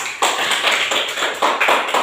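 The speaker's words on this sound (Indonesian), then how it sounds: "Tepuk tangan untuk No" Classroom applause from a group of pupils, rapid, fairly loud clapping in quick bursts close by, briefly pausing and picking back up.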